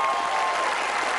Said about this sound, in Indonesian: Tepuk tangan Mas Sipto.